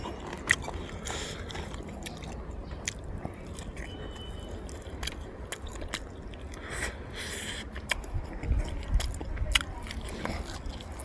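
Close-up eating of grilled catfish dipped in fermented fish jaew, with soft wet chewing, squishing and occasional bites running steadily throughout, no talking.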